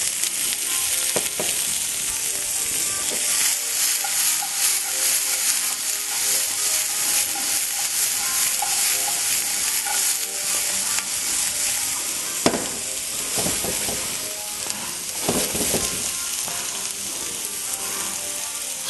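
Julienned carrots stir-frying in a hot pan for a seared Cajun tuna dish, a steady dense sizzle with scraping stirs and a few sharp clatters of the utensil against the pan, close and loud throughout.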